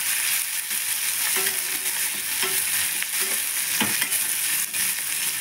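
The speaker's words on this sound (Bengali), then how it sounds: "দিয়ে এবার আমি হালকা করে এটাকে পেঁয়াজটাকে আমি হালকা ভেজে নেব।" Onion and halved green chillies fry lightly in a pan for bathua saag jhal, producing a constant close sizzle broken by intermittent stirring clicks and scrapes.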